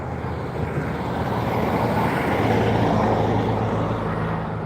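A truck on an Australian road passes nearby, a broad, steady roar that swells in the middle and holds as it goes by, with no talking.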